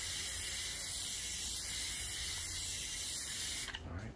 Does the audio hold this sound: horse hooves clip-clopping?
no